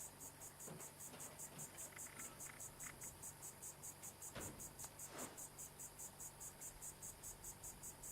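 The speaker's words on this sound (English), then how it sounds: "That's going to be the crickets, yeah." Steady, rhythmic cricket chirping in the Fallout wasteland, a fast pulsing trill running continuously throughout at moderate level, with a few faint low thumps underneath.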